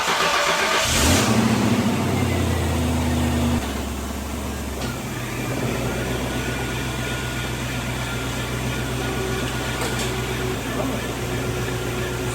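A Ford 8.8 rear differential gear being spun gives a brief louder burst at the start, then settles into a steady, fairly quiet low whirring hum that carries on to the end.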